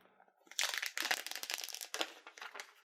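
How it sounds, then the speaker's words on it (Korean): Crinkling and tearing of thin plastic wrap being pulled off a black iPhone 11 128GB box, a quick burst of crackly rustles up close after a brief quiet start. "비닐을 뜯으니까 바로 이렇게 케이스를 오픈할 수가 있네요"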